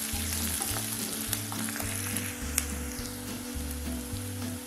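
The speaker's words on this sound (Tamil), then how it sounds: "வெங்காயம் நல்லா வதங்கட்டும்." Onions and curry leaves sauté in a hot pan, a continuous crackling sizzle with occasional stirring scrapes and pops, steady and close throughout with no voices.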